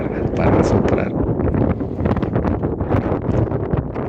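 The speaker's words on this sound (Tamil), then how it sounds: "இங்கேயும் காற்று பயங்கரமாக அடித்தது." Strong wind on the Meesapulimala mountain top in Kerala buffets the microphone in loud continuous gusts and rumbles, with talking mixed in.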